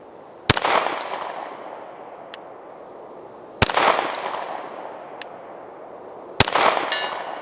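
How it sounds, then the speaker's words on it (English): Three sharp, loud pistol shots from a Canik TP9 Elite SC fired at a 100-yard target, spaced a few seconds apart, each followed by a ringing decay and a faint distant impact. "First shot."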